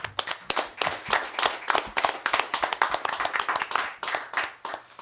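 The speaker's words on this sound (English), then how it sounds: "Let's get a round of applause for that." Applause at a county commissioners board meeting in Calvert County, Maryland: a modest group claps steadily for about five seconds, with fairly close, distinct individual hand claps in an indoor meeting room.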